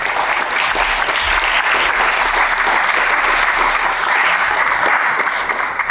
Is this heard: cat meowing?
no